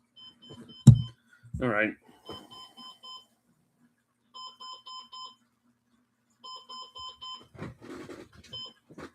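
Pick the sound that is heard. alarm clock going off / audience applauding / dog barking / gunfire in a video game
alarm clock going off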